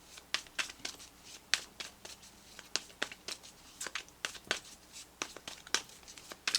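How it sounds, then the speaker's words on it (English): A deck of tarot cards is given a vigorous hand shuffle, making quick, irregular papery clicks and riffles. The sound is quiet and close, with no voices. "I just want to give these cards a really good shuffle,"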